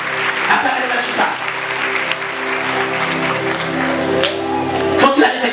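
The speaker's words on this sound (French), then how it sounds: "Acclamez le Seigneur." A church congregation applauds and cheers through the whole stretch, steady dense clapping mixed with shouts and sung or sustained voices, loud and busy throughout.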